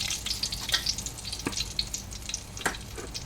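Dried red chillies, bay leaf and whole cumin seeds sputter in hot oil, giving a steady close sizzle broken by sharp, scattered crackles and pops with no voices.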